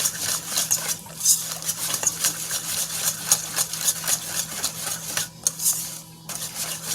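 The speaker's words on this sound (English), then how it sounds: "Whisk that together." A whisk beats a banana bread pudding mixture in a bowl. It makes a steady stream of quick, light metallic clicks and scrapes, close up, with a faint hum underneath and no speech.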